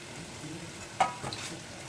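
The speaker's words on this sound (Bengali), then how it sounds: "আমি আবারও একটা নানপুরি তোমাদেরকে ভেজে দেখাচ্ছি" Nan puri frying in hot oil, a faint, steady close sizzle with one soft clink midway through the short stretch.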